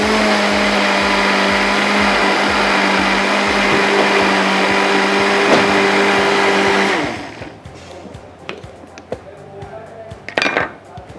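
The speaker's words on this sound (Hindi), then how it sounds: "लेकिन मैं एक दफ़ा जेलेटिन डालने के बाद भी इसको दोबारा ब्लेंड कर देती हूँ।" A blender whirs loudly and steadily through a mango panna cotta mixture with gelatin for about seven seconds, then cuts off, leaving scattered clinks and light handling sounds.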